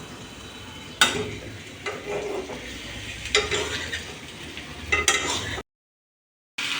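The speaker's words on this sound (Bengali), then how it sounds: "এবার কষিয়ে নেব মাংসগুলোকে" Chicken sautés in a pan with a low sizzle, broken by sharp clanks and scrapes of a spatula against the pan at irregular intervals, ending in a brief silence.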